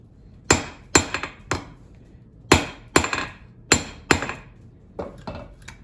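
Hammer blows ring on forged steel against an anvil face while a square punch is straightened, about ten sharp metallic strikes in uneven clusters, close and clear with short ringing decays and no talk.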